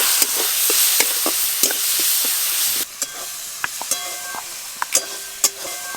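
Grated ginger dropped into tomatoes frying in a pan, with a steady loud sizzle that eases off as a utensil stirs, scraping and clinking against the pan in irregular knocks.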